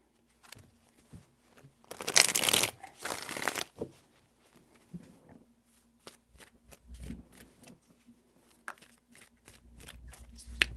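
Tarot cards are shuffled by hand: one loud riffling burst of about two seconds, followed by scattered softer taps and flicks of the deck, close up and quiet.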